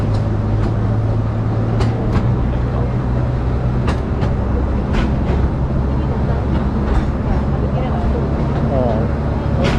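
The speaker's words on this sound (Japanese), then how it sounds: "電車とかいっぱいいるじゃん。" A train runs on the Akasawa forest railway, a steady low rumble with intermittent clicks and clanks over roughly ten seconds, while voices talk nearby.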